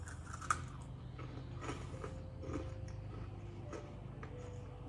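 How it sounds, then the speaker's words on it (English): Crisp cinnamon meringue cookies, baked as Christmas treats, crunching as they are bitten and chewed close to the mic, a few sharp cracks followed by softer grinding crunches, with no talking. "You can hear that crunch."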